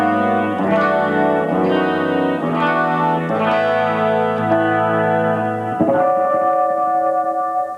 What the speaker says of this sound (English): Put the two together, the short delay and the long delay, and you get what kind of a nice airy sound.